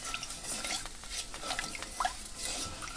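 A spoon stirs sugar into warming vinegar in a pan for sauerbraten stew, making soft, irregular scraping and clinking strokes against the pan bottom, faint and close, with no voices.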